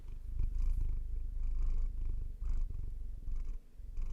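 A cat purrs close up, a continuous low rumbling throb with steady rhythmic pulses, heard alone and without talk.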